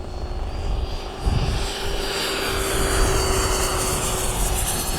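Steady buzzing drone of a Legend Hobby Seagull Shock Cub RC plane's engine during slow flight, rising slightly as the throttle comes up, fairly loud and continuous throughout with a faint constant tone.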